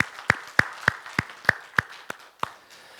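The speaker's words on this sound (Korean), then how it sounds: "우리 영광의 박수 하나님께 돌릴까요?" In a church service, hands clap about eight sharp, evenly spaced times in a quick rhythm. The claps are crisp and close over a quiet background.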